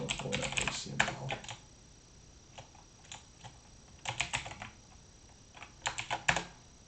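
A filename is typed on a computer keyboard in close, quiet bursts of crisp key clicks, clustered at the start, middle and end with short pauses between, no talking.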